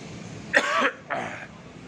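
A single person coughs twice up close, a sharp hack followed by a softer one, over faint background hiss.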